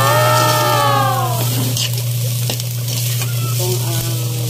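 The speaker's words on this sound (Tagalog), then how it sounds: "Yan guys, haluin ko lang po siya." Food stirred in a hot pan while frying, with a loud, close, continuous sizzle, a brief ringing clink at the start and scattered stirring scrapes throughout.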